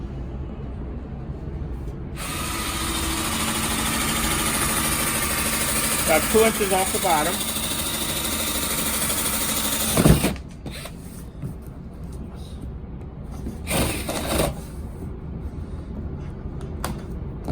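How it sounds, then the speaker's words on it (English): A power drill with a 5/8 inch bit bores a hole near the bottom of a plastic rain barrel, a sustained whining motor run of about eight seconds followed by a brief second burst, with someone talking over it. "I am going to drill a hole."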